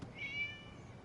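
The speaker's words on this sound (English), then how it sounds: "It was just a cat." A single short cat meow in Genshin Impact, faint and slightly high-pitched, heard alone over a soft background.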